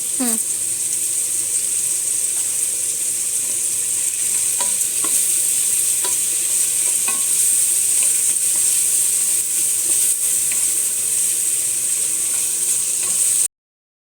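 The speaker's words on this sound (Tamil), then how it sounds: "வெங்காயம் வதங்கும் போது கொஞ்சம் உப்பு போட்டு" Onions sauté in oil with a little salt for chicken biryani, giving a loud, steady, close sizzle with occasional spoon scrapes and stirring taps throughout.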